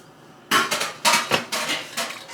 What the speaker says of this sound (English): Next, I'm going to add my lentil peas. And here we have 2 cups of lentil peas.